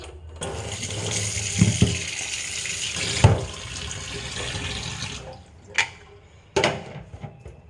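A kitchen tap runs in a steady stream over fish and a few prawns, broken by a couple of clinks and splashes. The water then stops, leaving a few short knocks of handling.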